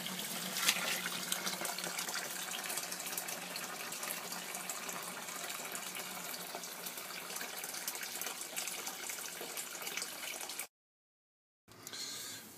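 Hot liquor water running steadily through a pipe into a mash tun for brewing Bathams Best Bitter, a continuous close trickling and splashing flow that cuts out briefly near the end.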